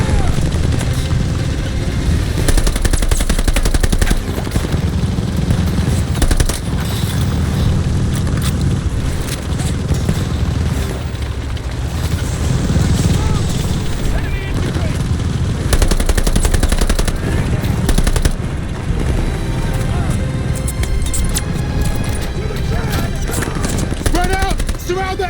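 Machine gun fire in a WWII video game set in the 1944 Battle of France, dense continuous bursts and rattling volleys over a constant battlefield din, with shouted voices mixed in throughout.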